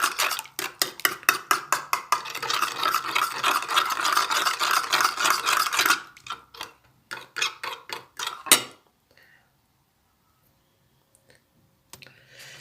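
Water being stirred in a bowl before flour goes in for a crispy homemade snack: quick, rhythmic clinking of a utensil against the bowl for several seconds, then slower scattered strokes, then near silence.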